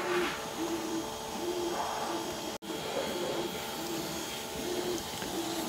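An Electrossul 15kg LT15S washing machine runs its spin cycle, a steady whirring drone with a faint pulsing tone, close and continuous with one brief dropout partway through.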